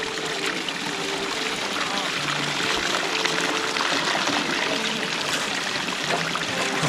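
Water trickling and flowing steadily through a recirculating Gold Cube sluice set up beside the South Umpqua River in southern Oregon, a close, constant wash of running water with a person talking over it.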